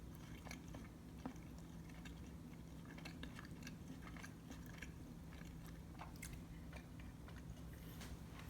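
Close, quiet chewing and biting of homemade pizza bread, with soft squishy crunches and small mouth clicks repeating steadily over a low background hum.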